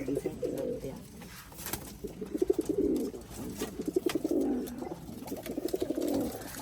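Pigeons coo repeatedly in a steady, rhythmic series of low, throaty calls, close by and clearly audible over a faint background.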